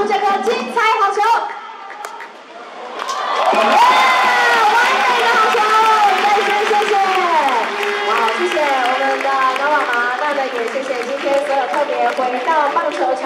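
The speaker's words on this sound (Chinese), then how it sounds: "一起用最热切的掌声来欢迎高妈妈投出这颗精彩好球" At a professional baseball retirement game, the stadium crowd cheers and applauds a ceremonial first pitch. A brief lull gives way to a loud, sustained roar of cheering, with an amplified voice speaking over it.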